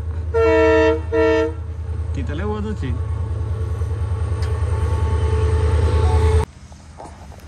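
A train horn blasts twice, then a train rumbles past with rhythmic clacking and a steady hum before cutting off abruptly; a voice speaks briefly.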